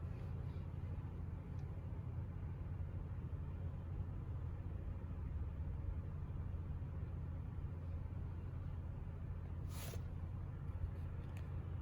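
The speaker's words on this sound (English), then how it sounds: "I'm gonna bring you on a little test drive of this Chrysler Pacifica" Steady low engine and road rumble from inside a Chrysler Pacifica Hybrid minivan on a test drive, constant and droning throughout, with a brief brighter swish near the end and no talking.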